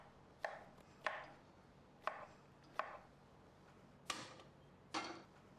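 Garlic and ginger being chopped with a knife on a board for a Kerala-style lamb fry, six sharp, evenly spaced chops about a second apart, close and clear with no talking.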